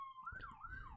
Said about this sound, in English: God fucking damn these sirens, AJ.